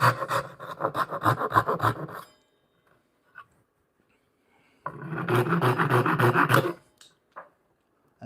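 A chisel makes a stop cut in wood with two bursts of rough, grinding cutting roughly two seconds long, separated by quiet, plus a few faint knocks, close and fairly loud with no talk.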